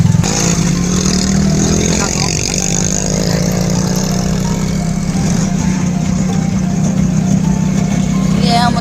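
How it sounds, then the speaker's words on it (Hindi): A village tractor engine runs with a steady low chugging drone close by, while a voice talks over it. "गाँव के ट्रैक्टर।"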